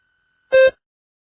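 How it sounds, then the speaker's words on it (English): A single short electronic beep in a speaking practice test, clean and tonal, standing alone in silence. "Begin to prepare your response after the beep."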